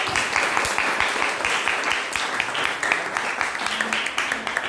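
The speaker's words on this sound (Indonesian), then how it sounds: "Beri tepuk tangan buat kalian semua" Applause from a class of eighth-grade students in an Indonesian-language lesson, a steady, busy patter of many hands clapping throughout at moderate volume, with faint voices mixed underneath.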